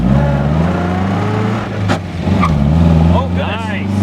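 A 1954 MG TF pulls away in first gear, its small engine droning steadily and close, dipping briefly before rising again as the revs climb, with a voice speaking over it.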